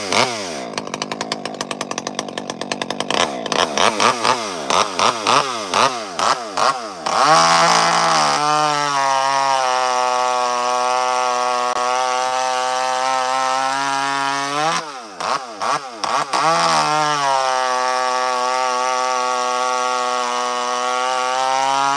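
Ported Poulan chainsaw revving and cutting wood at high RPM, the engine rising and falling in pitch through blips before holding a loud, steady high-speed whine in the cut, close up.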